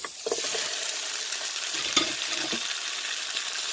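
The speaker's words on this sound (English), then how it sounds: "go ahead and saute your onions and your tomatoes" Onions and tomatoes sauté in a pan with pimento peppers, a steady sizzle running throughout while a utensil scrapes and stirs in short bursts, close and fairly loud.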